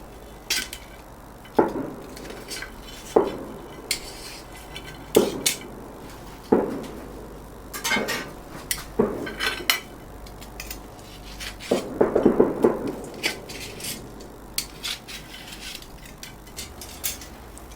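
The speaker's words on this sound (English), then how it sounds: "I'm just going to remove the meat off the skewer." Grilled chicken kebab meat being pulled and scraped off a metal skewer over a live-fire setup: a series of sharp metallic clinks and scrapes at irregular intervals, close and clear, with a busier cluster of rattling near the end.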